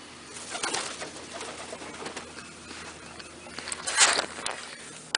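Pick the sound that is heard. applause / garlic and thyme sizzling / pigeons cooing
pigeons cooing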